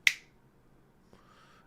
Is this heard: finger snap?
yes